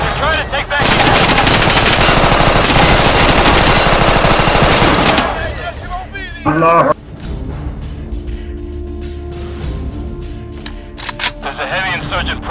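Rapid automatic gunfire in the co-op video game Insurgency on the de_train map, loud and dense bursts for about five seconds, then sporadic shots and game sounds under voice chat.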